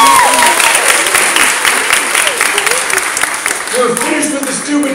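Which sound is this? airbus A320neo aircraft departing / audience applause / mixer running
audience applause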